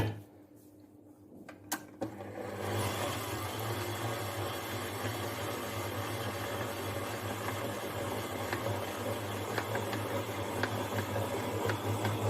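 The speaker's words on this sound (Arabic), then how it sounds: "وكنديوها للعجانه، وكنبداو كنعجنوا" Pizza dough churning in an electric kneading machine, a steady low mechanical hum and rumble that starts after a couple of seconds of quieter handling noises and then runs on continuously at an even level.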